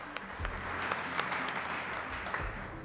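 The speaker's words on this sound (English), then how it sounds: "let's give you a round of applause" An audience at a lab grand opening claps for a family being recognized, soft and somewhat distant applause with a few sharper individual claps standing out.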